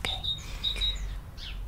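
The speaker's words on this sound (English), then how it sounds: "Damn, that bird is loud." Loud bird chirps sound close by in short bright bursts over a faint whispering indoor setting, with a few tweets repeating through the moment.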